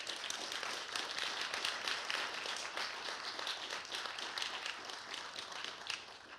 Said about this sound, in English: we'll get a round of applause for these three